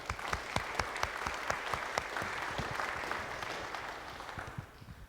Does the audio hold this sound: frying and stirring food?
no